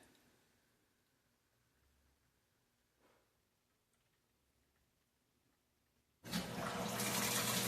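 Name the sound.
Whirlpool WTW4816FW3 washing machine running water for the rinse cycle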